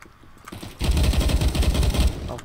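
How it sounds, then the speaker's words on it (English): Terrorists firing guns in Counter-Strike, with bursts of rapid automatic gunfire that start after a quiet moment and keep rattling loudly, close by. "the terrorists are, like, over there firing at us"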